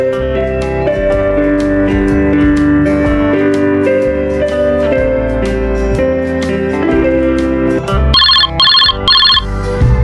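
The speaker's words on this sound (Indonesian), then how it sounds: "untuk menerima panggilan telepon, kita jangan membiarkan telepon berdering lebih dari 3 kali" Office telephone with a ringtone that warbles over steady background music, then clear bursts of electronic ringing in three quick repeated groups near the end, loud and close.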